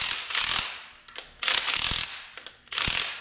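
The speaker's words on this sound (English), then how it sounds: "Just tighten these two bolts up." Ratchet wrench tightening bolts during a 12 valve Cummins camshaft swap, three loud close bursts of rapid clicking separated by short pauses, each ending with a sharp knock.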